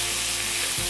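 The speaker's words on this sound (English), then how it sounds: "A fantastic sizzle," Beef strips in oil searing in a stir-fry pan on a Rayburn range, a loud continuous hiss and crackle with a brief stirring scrape near the end.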